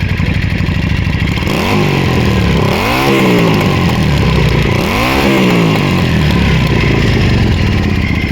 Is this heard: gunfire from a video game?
no